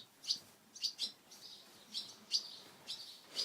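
Barn swallow, an agitated male near its nest site, gives a series of about eight sharp, high chirps in irregular bursts, fairly close and clear over quiet background.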